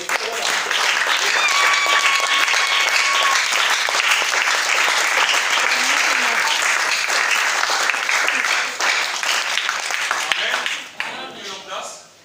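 A church congregation breaks into sustained, loud applause during a Sunday service, dense clapping filling the room steadily before thinning out near the end.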